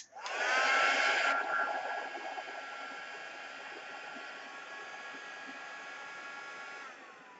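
A heat gun or hair-dryer style heat tool blows steadily over wax on a craft project, a loud airy roar right at the start that settles into a continuous whir for several seconds before cutting off.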